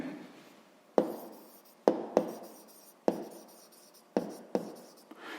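Pen or pencil writing numbers by hand on paper, a series of sharp taps and scratchy strokes in uneven rhythm, close and fairly quiet with no talking.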